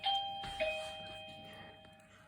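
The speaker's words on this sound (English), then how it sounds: "There goes my doorbell now as well" Household doorbell chiming indoors, a two-tone electronic ding-dong that rings out clearly and then fades slowly, heard faintly in a quiet room.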